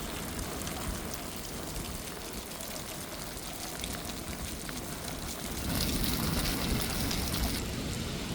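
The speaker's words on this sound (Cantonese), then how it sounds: "今日落好大雨啊！" Heavy rain pours steadily at Chiang Kai-shek Memorial Hall. It makes a dense, continuous hiss that swells louder for the last few seconds, with no voices.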